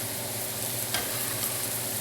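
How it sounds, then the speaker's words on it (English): Onions sizzle in a hot frying pan, a steady close hiss of frying with a brief stir or scrape near the middle, no voices. "let them sizzle."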